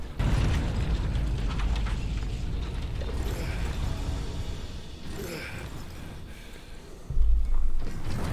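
A room collapsing in the video game Warhammer 40,000: Space Marine, a dense continuous rumble of crashing debris with a heavy boom near the end.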